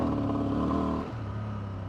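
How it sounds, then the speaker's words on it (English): A 2024 Honda Transalp 750 motorcycle engine runs steadily nearby, then about halfway through it abruptly falls away to a lower, weaker note as it cuts out. "You hear it just cut out. Just completely cutting out."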